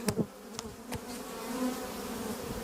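Honey bees hum at an open hive during a beekeeping inspection, a dense, close buzzing chorus that follows a few sharp knocks at the start and keeps swelling slightly.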